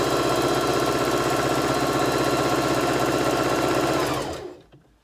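A sewing machine hums in a steady close-up run while stitching elastic onto a small fabric face mask, then winds down and stops near the end.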